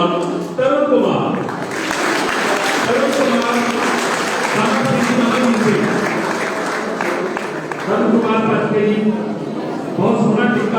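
Applause for a prize winner at a school result declaration and prize distribution ceremony, a sustained clapping crowd lasting the whole stretch while someone speaks loudly over it through an amplified voice.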